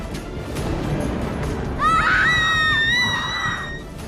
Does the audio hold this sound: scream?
yes